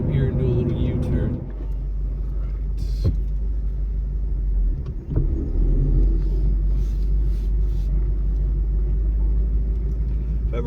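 A Ford Mustang driving through night streets and swinging into a U-turn, its engine a steady low rumble close by, a brief shift in pitch midway as the car turns.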